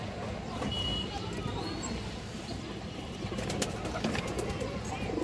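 Pigeons at a seller's loft, among them a red-eyed army knot bird, keep up a steady low murmur of cooing over a busy background hum of other birds and faint distant noise.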